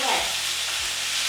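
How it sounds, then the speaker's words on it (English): Food browning in a hot pan gives a steady, loud broadband sizzle throughout, with a couple of brief low thumps as it is turned, and no voices. "I can see it's browning."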